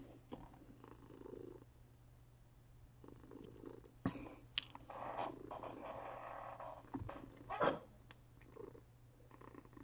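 A house cat purrs in a steady low hum close by, with soft rustling and a few brief bumps and scuffs layered over it.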